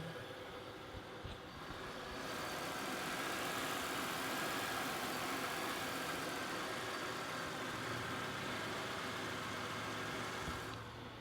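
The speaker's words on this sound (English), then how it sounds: "you got the venerable 3800 Series 2 V6 engine. As you can see, just as smooth as silk" A Buick LeSabre's 3800 Series II V6 engine idles quietly and evenly, a steady low hum that stays smooth throughout with no voices.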